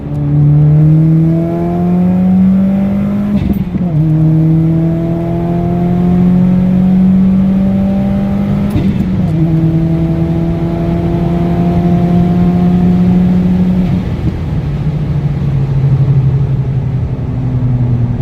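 A 2015-or-later Subaru WRX with a flex fuel tune accelerates hard on a long pull, its engine note climbing loudly through three upshifts, each marked by a brief dip before rising again.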